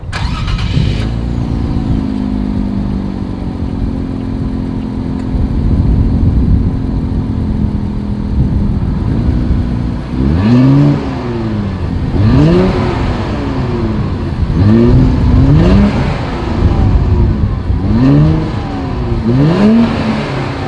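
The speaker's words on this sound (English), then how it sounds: "here is that exhaust clip." A 2020 Infiniti Q60 Red Sport 400's engine idles with a steady rumble, then revs repeatedly in sharp rising bursts from the exhaust, loud and close.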